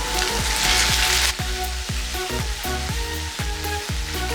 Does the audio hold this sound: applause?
no